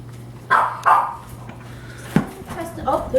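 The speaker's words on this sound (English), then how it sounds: "and that's my dog." A dog barks twice in quick succession, fairly close, with a sharp thump afterward and a low steady hum underneath, in a home kitchen where barbecue wings and zucchini fries are being cooked.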